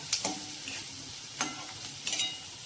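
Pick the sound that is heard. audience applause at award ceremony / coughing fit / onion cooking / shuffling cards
onion cooking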